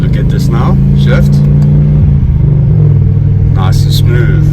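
A car on a track day revs its engine and shifts gears, a loud steady drone with rising and falling pitch close up, under occasional talk.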